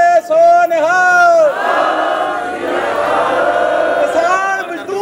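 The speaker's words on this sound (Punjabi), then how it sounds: "ਇੱਕ ਜਕਾਰਾ ਛੱਡਾਂਗੇ ਬੋਲੇ ਸੋ ਨਿਹਾਲ" A crowd at a protest in front of an Indian embassy in France answers a Sikh jaikara war cry, a massed roar that swells and holds loudly after a single voice leads it.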